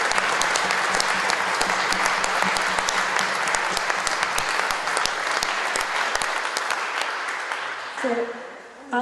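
Sustained, dense applause from an audience cheering the Hawker Hurricane team at a museum topping-out ceremony, loud and steady for most of its length before tapering off near the end.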